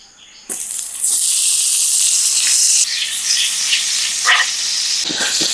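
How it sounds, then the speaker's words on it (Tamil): Mutton roasting in melted butter in a hot pan gives a loud, steady sizzle that starts abruptly and carries on for several seconds, broken by a few sharper spits and crackles. Nobody speaks. "இப்போ நாங்கள் பட்டர் கொஞ்சம் போட்டு மட்டனை கொஞ்சம் ரோஸ்ட் பண்ணிக்கிறோம்."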